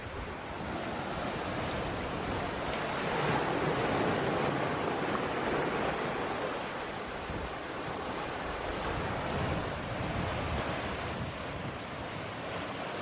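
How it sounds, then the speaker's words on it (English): Wind and ocean waves heard aboard a sailboat crossing the Pacific in about 18 knots of wind, a steady broadband rush of surf and gusting air with wind buffeting the microphone, swelling slightly midway and continuing without pause. "We've got about 18 knots of wind and our speed over ground is around 7"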